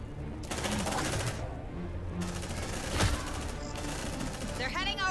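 Rapid bursts of automatic gunfire rattle almost continuously in Aliens Dark Descent, with brief pauses between volleys and a sharper shot near the middle, while voices talk over the shooting.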